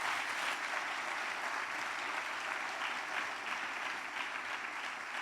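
Sustained applause from a church congress audience, steady dense clapping filling the whole stretch at an even level with no voices standing out.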